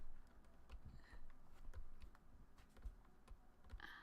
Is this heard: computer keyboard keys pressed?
yes